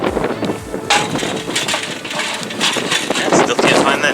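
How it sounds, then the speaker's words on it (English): Wind gusts outdoors around a barbecue smoker on a blustery day, a loud rushing roar buffeting the microphone, with a voice talking over part of it. "It's a windy day today."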